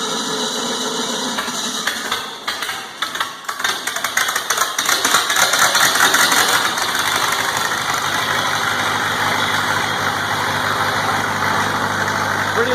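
A welding generator engine, a Trailblazer welder, rumbles after being started, a loud steady mechanical idle with some rattling knocks early before settling into a constant drone.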